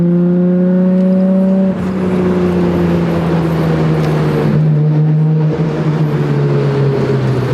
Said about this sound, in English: I'm out test driving the car, and it's sad to say that we're still rubbing on that rear wheel.